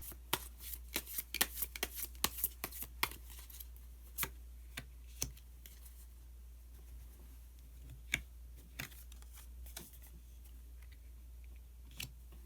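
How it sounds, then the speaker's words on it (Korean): Tarot cards being shuffled and drawn by hand give a quiet run of crisp, irregular riffling snaps and flicks, dense at first and then thinning to a few separate card slaps. "그러면은 한 장의 카드를 더 뽑고 이야기 계속 나오도록 하겠습니다"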